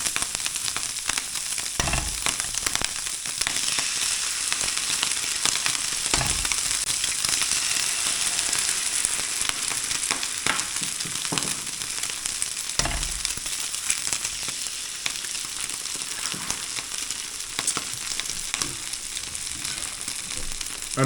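Ravioli pan-frying with bacon lardons in olive oil, a dense, steady sizzle and crackle of hot fat throughout, with a few louder pops and stirring knocks near the pan.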